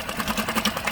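A small outboard motor runs dry and sputters near the end of its fuel, a close, loud, uneven engine putter with a rough pulsing rhythm.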